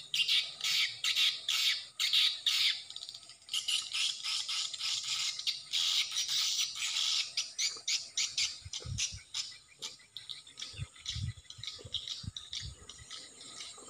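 Dense, rapid chirping and rattling calls of many swiftlets fill a swiftlet nesting house, steady and overlapping throughout, with a few low thuds near the end.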